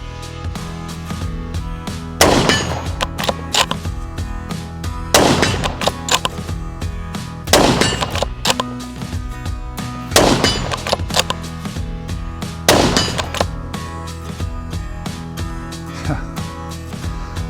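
Five loud rifle shots from a Sauer S100 Ceratech in .243 Winchester, spaced about two to three seconds apart with ringing decays, during an outdoor accuracy test.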